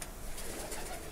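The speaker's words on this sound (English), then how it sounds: "Wow, that's a nice pigeon." A pet pigeon coos softly while being stroked by hand, a low, murmuring call close by over a noisy room background.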